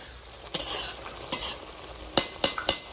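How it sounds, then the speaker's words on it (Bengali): Egg curry with whole boiled eggs being stirred with a metal spatula in a village-style kitchen: five sharp scraping clicks against the pan, spaced irregularly over a faint low sizzle. "খুন্তি দিয়ে ঝাড়াঝাড়ি করে।"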